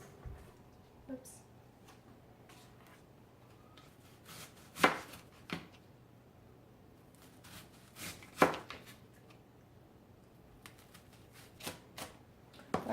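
An onion is chopped for meatloaf, a series of sparse knife strikes on a cutting board with a few sharper, louder chops standing out over a quiet kitchen background.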